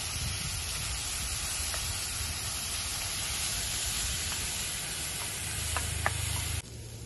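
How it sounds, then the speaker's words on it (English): Vegetables and herbs sauté in a pan for risotto as a constant, even sizzling hiss with a few faint clicks toward the end, close by and with no talking. "so we've got our veggies sweating down here"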